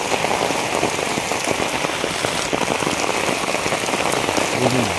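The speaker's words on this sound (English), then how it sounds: "It's raining heavily." Heavy monsoon rain pours steadily near the Sankarpur and Digha beach area, a dense, continuous, loud hiss of drops hitting surfaces with no break.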